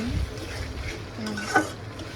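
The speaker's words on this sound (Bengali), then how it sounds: "আমি মশলাটা কষতে দিয়েছি" Spice masala being fried and stirred in a pan for brain bhuna, a faint soft sizzle with a few quiet scraping strokes of a spatula, close and low.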